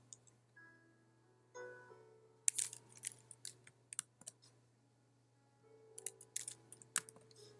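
Computer keyboard keys clicking in a few quiet, scattered bursts of taps with pauses between, close and faint over a low steady hum, with no voices.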